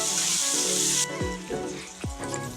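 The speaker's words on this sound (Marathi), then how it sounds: "कांदा टमॅटो मसाले छान आपले तेलामध्ये परतले आहेत" Onion, tomato and spices sauté in oil for a thin soybean curry. A brief hiss of sizzling cuts off after a second, followed by soft stirring scrapes and low knocks.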